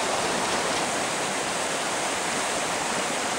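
Water of the Orb river flowing steadily in a broad, continuous rush, close and fairly loud, with no voices.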